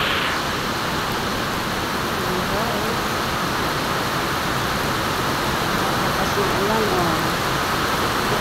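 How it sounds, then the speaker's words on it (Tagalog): Dense morning rain at Ampang Park, Malaysia, hisses steadily with a broad, wash-like roar, continuous and close, with faint voices underneath. "Ang lakas ng ulan guys."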